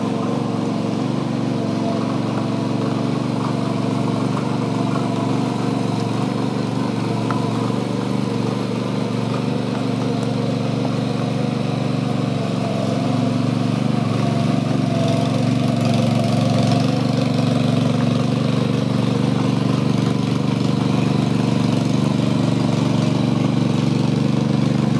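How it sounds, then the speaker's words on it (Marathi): A tractor engine runs steadily in a farm field during rice planting, a loud continuous mid-pitched drone with a slight knocking throb that stays near and unbroken throughout. "आता सरळ ट्रॅक्टर धरून घेतोय."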